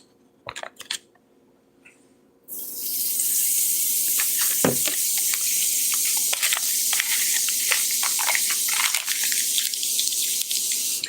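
Butter hits a hot pan for tostadas and bursts into loud, steady sizzling with scattered pops and crackles, after a few quiet taps and clinks beforehand.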